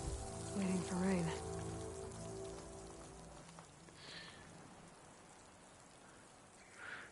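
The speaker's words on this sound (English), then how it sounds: "Waiting for rain." Steady rain patters on surfaces in the Horizon Forbidden West video game, a soft, even hiss that continues throughout, with a faint musical tone fading out early on.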